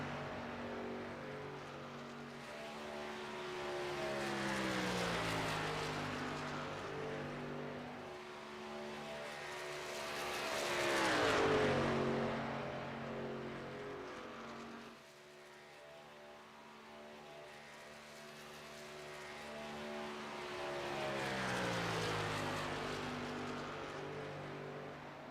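Race truck engines circle Michigan International Speedway in an iRacing simulation, their droning, rising and falling whine swelling and fading in long passes as the trucks sweep by, with no talk over them.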